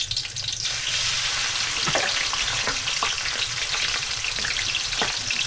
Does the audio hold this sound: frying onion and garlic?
yes